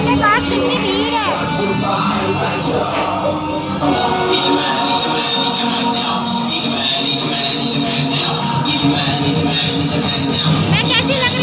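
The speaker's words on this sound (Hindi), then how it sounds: "देखो हमारे घर के पास कितनी भीड़ है।" A crowd gathered near a house for the Dussehra burning of a Ravan effigy, steady dense babble of voices with children's chatter and shouts, close and continuous throughout.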